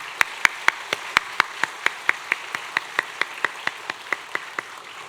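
A church congregation at a building dedication thanksgiving service claps in unison, about twenty sharp, evenly spaced claps at a brisk steady beat, close and loud with no talking.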